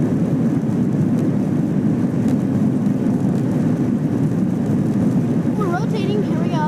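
Passenger airliner accelerating down the runway and rotating for takeoff, heard from inside the cabin as a loud, steady broadband engine roar that fills the whole stretch, with brief tonal chirps near the end.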